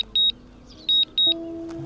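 A drone's return-to-home warning: three short electronic double beeps, high-pitched and evenly spaced, over a low steady hum.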